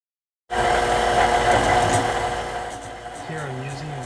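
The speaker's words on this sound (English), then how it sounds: "I'm using a 1/4 inch end mill with 6900" A CNC mill cutting with a 1/4 inch end mill at 6900 RPM and 8 inches per minute, starting abruptly and then holding a loud, steady whine with a faint pitch shift near the end.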